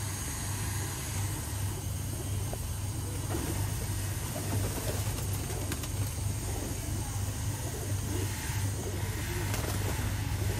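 Pigeons, including golden Ferozpuri birds, cooing in a loft, soft repeated low coos over a constant low hum and faint engine noise, with no clear talking.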